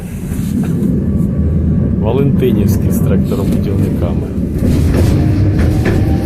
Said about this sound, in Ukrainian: це вже трамвайчик